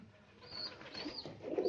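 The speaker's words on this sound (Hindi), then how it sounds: "अब देखिएगा कबूतर कैसे पानी पीते हैं" Pigeons coo close by at a homemade upturned plastic bottle water feeder, with a few soft low throaty coos rising toward the end and nobody talking.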